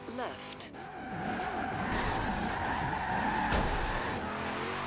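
A car in a racing video game brakes hard, tires skidding and squealing in a sustained, loud screech over the engine, continuing for several seconds.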